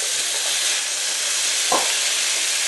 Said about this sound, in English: Remain on high heat and we will cook the bacon